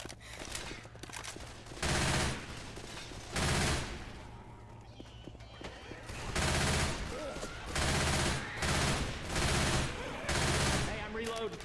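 Bursts of video-game gunfire in repeated volleys, rapid automatic shots alternating with brief quieter gaps, loud and close amid game ambience.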